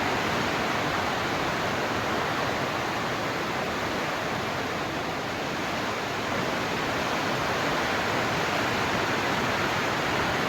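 Heavy rain drums steadily on a plastic sheet roof over a farm work area, a dense, even hiss of close, loud downpour that holds unbroken throughout with no voices.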